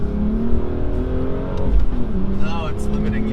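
A BMW M car pulls hard in second gear, its engine note rising steadily from inside the cabin while people talk over the loud, continuous drone.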